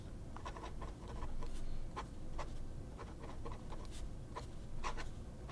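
A flex-nib fountain pen scratches across paper in short strokes and longer scrawls, a close, dry, irregular scratching heard alone over faint room noise.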